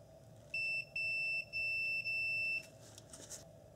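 Multimeter continuity beeps while testing a crankshaft position sensor circuit, four sustained high-pitched electronic tones with short gaps, clear above a faint background.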